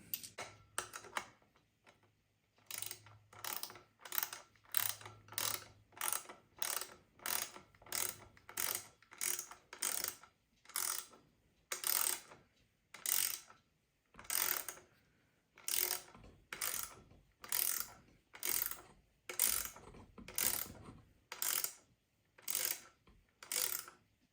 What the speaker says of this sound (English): it's just as simple as tightening it on down with the 8mm